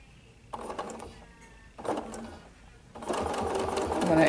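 Sewing machine stitching backwards on a quilted table runner, three bursts of close motor whir, the last one longest and strongest, with a voice talking quietly in between.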